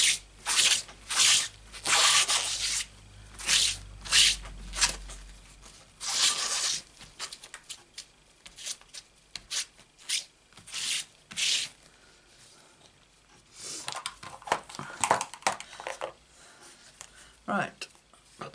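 A clean cloth rubbed briskly over a rubber stamp during a crafting session: repeated short scrubbing strokes in bursts, close and fairly loud, with pauses between groups of strokes.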